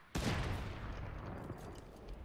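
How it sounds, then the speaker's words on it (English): Video game gunfire strikes a wall, an abrupt loud burst of rapid shots that blurs into a dense rattling roar before tailing off slightly. "I shot the wall."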